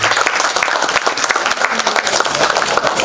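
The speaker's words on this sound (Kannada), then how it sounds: "ಒಂದು ಚಪ್ಪಾಳೆಯ ಮೂಲಕ ಅವ್ರನ್ನ ವೇದಿಕೆ ಮೇಲೆ ಮಾಡ್ಕೊಳ್ಳೋಣ" Dense, loud applause from an audience welcoming a guest, a theatre and film actor, onto the stage at a Mr & Miss India 2023 grand finale, steady clapping filling the whole stretch.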